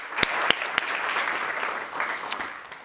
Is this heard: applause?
yes